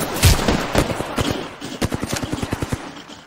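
Rapid gunfire from the video game Apex Legends, a fast run of sharp shots that quickens into a steady automatic burst near the end, moderately loud with no voices.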